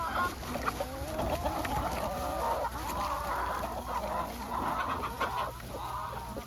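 Chickens cluck and chatter continuously inside a trailer in the morning, a busy overlapping flock at close range, with a steady high background hum and no speech.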